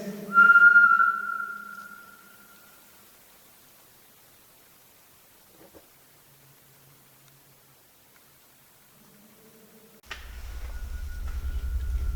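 In the underground Drakelow Tunnels, one short, clear whistle sounds at the start, followed by long near-silence, then a low rumbling noise rises at the end.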